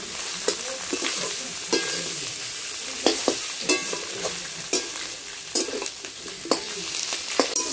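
Green chili fries in hot oil with a steady sizzle, while a utensil stirs and scrapes the pan in irregular clicks and taps.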